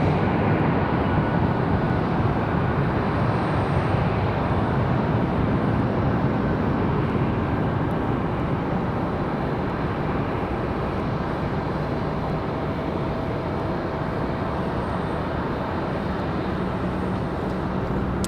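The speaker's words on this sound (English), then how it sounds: "This one here, an A319." An Airbus A319 airliner passes at Raleigh-Durham International Airport, heard as a steady broadband jet roar that stays loud and constant throughout, with faint airport background beneath and no talking.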